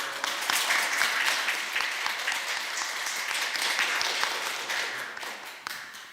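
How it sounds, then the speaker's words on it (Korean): Sustained applause from a church congregation fills the whole stretch at moderate volume, a dense, even patter of many hands with no voices rising above it. "기념사진 하나씩 박수 부탁드립니다."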